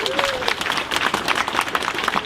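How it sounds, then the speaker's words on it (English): An indoor audience applauds steadily at an honouring ceremony in Athy, a dense, sustained wash of many hands clapping with crowd noise mixed in throughout. "Give them a round of applause, please."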